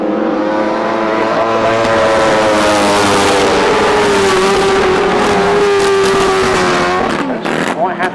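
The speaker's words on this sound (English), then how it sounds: "They've got Paul Whitelam and Alan Elliott leading on the Yamaha cross-plane engine." Grasstrack racing motorcycles with Yamaha cross-plane engines roar loudly and continuously at a 2012 British Masters meeting, engine notes rising and sliding in pitch as they race past, with a commentator's voice running underneath.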